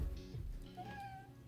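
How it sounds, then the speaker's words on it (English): A pet cat gives a single short, fairly close meow after a low rustle, faint and alone in a quiet indoor room. "My cat keeps meowing."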